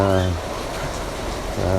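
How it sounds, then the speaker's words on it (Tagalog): Sudden heavy rain during a typhoon hisses as a dense, steady wash. Speech-like tonal voices are heard at the start and end, and the rain continues in between. "biglang bumusang ulan"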